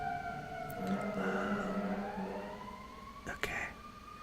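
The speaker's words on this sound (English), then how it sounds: "Also, there's an ambulance." An ambulance siren passes down a residential street beside a hospital, its wailing tones sliding steadily and moderately loud behind a soft, quiet room ambience.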